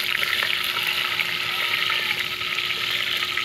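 Onion and garlic sautéing in a pan while a mung bean dish is prepared, giving a continuous close, loud sizzle with a steady hiss and no breaks.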